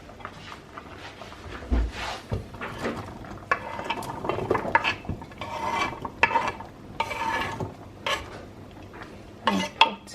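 Chopped vegetables tumble into a cooking pot for beef stew, with irregular clatters, scrapes and knocks of utensils against metal over about ten seconds, close and fairly loud, no speech.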